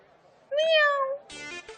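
Actor imitating a cat with a voiced meow, a single rising then falling wail followed by a short buzzy vocal burst, close and fairly loud.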